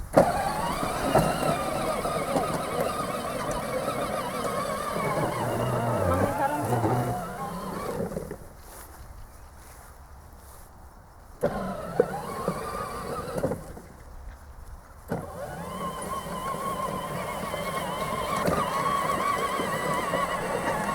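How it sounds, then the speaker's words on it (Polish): A 12V battery-powered children's ride-on car drives with a steady electric motor whine and rolling noise. The motor cuts out briefly twice as the car stops and changes direction. "ogólnie rzecz biorąc pojazd jedzie w każdą stronę jedzie do przodu, do tyłu można nim cofać, można skręcać"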